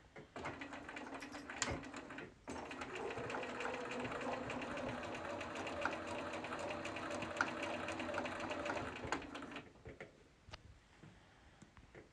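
Sewing machine stitching a quarter-inch seam with a zipper foot, a steady, fast mechanical whir and rattle running for about seven seconds after a short start, then stopping, heard close with a quiet room around it.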